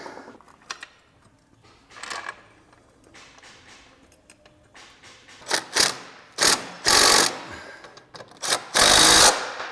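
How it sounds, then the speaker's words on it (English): Impact wrench tightening bolts on a 1990-98 Mitsubishi Minicab truck during a lift kit install, short sputtering bursts that grow longer and louder toward the end, close by, with quieter clanks between. "That impact is pretty weak."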